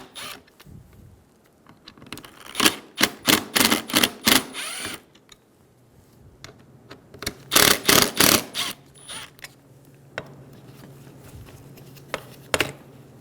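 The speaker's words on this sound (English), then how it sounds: "Using a T30 bit, remove the 3 screws for the window motor." Three window motor screws backed out of a 2000-2007 Ford Focus door with a T30 bit, heard as two close bursts of rapid ratcheting clicks separated by quieter handling noise, with no talking.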